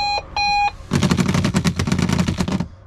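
An alarm going off indoors: two sustained electronic beeps followed by a fast rapid-fire clattering buzz that pulses for about two seconds, loud and close.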